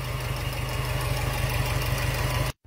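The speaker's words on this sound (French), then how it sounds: "Magnifique moteur 4 à plat, dans un état de conservation presque aussi bon que ma grand-mère qui est de 12." Subaru flat-four engine running steadily with a loud, throbbing low rumble and pulsing beat, close by, cutting off abruptly at the end.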